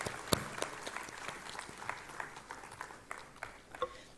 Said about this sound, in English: Everyone, let's give him a warm round of applause to welcome him to the stage.